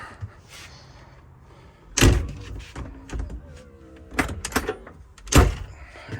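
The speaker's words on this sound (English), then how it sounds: "Close the door, open the door" An RV screen door shut and swung open by hand, giving a few sharp, solid thunks and rattles close by, spaced out over several seconds with quieter handling noise between them.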